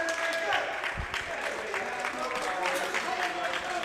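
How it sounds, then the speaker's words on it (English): Basketball game crowd applauding in a gym, a continuous spread of clapping and crowd noise under a commentator's talk. "applause from the Larson Ford crowd here to watch their guys play tonight"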